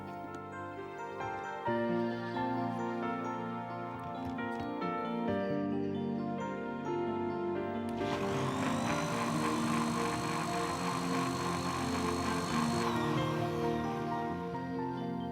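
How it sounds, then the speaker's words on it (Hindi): A kitchen mixer grinder blends chutney lassi, starting midway with a loud whirring motor whine that holds for about five seconds before stopping, with background music throughout. "और इसको फिर मिक्सी में चला दें।"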